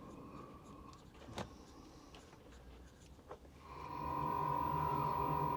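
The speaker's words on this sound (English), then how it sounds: "You can hear a little buzzing in the background. That's the diesel heater I've had on" A diesel heater runs in the background as a steady low buzz, joined after a few seconds by a louder, sustained tonal hum, with a couple of brief knocks early on.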